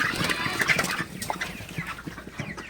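Broiler chickens on a farm during hot weather, making a busy chorus of short clucks and squawks close by, overlapping in an uneven rhythm.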